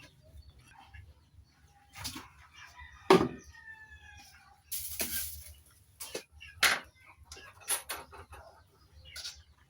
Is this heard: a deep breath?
no